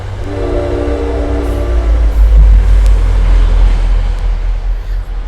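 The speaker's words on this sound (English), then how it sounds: "train coming." A train rolls past close by, a loud, steady low rumble with wheel and rail noise swelling and holding for several seconds, plus faint horn-like tones early on, with no talk over it.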